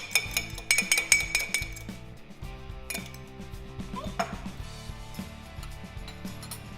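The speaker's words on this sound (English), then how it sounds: "Go ahead and whisk that egg" An egg whisked in a bowl for egg wash gives a steady run of quick, bright clinks and taps, loudest early on and continuing at a softer, even pace, with no talking.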